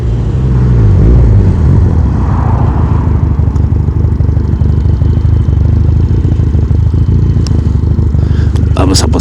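A four-stroke motorcycle fitted with a Leonart Pilder exhaust rides along, its engine droning loud and close throughout, with a steady thrumming note that shifts slightly as it moves.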